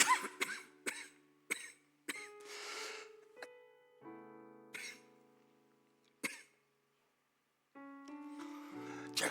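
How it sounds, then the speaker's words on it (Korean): Several sharp coughs in quick succession, then more isolated coughs spaced apart, close and fairly loud with quiet gaps between. "제가 알러지가 있어서 흥분하면 기침이 나와요."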